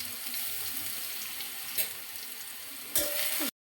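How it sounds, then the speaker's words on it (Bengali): Crushed garlic hits hot mustard oil with a loud, steady sizzle, a clatter of utensils near the end, then the sound cuts off abruptly. "তেল গরম হয়ে গেছে, দিয়ে দেব দুটো রসুন ছেঁচে।"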